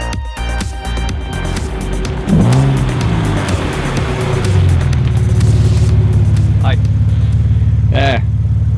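An Alfa Romeo 147 GTA's V6 with aftermarket downpipes revs hard from inside the cabin, a loud rising growl that climbs, drops through a gearchange, then settles into a deep sustained roar, with brief squeaky chirps near the end.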